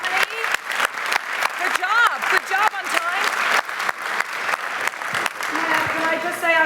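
Applause from a conference audience at an opening ceremony, with hands clapping steadily while a voice talks over it and clapping continues near the end.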